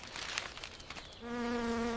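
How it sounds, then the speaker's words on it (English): A bee buzzes around flowers in a children's cartoon scene: a steady, even hum rises partway through and holds loudly to the end, with no talking. "The bee is flying on the flowers."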